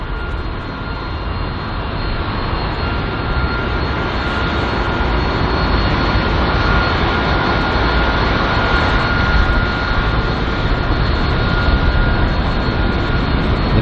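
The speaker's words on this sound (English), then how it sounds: "up next is the British Airways A320-200 arriving from Nice on its 1 hour and 35 minute long flight" A British Airways Airbus A320-200 jet arriving at London Heathrow, heard as a loud, steady, broadband engine roar that holds strong across the whole stretch with no voices.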